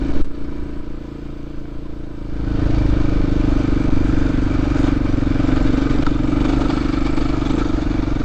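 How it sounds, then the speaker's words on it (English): Motorcycle on a ride to Copper Canyon, Mexico, running after an oil top-up and restart: a steady close engine drone that swells and holds louder as the bike pulls away, with no talking. "We got some new oil in it, got the bike started."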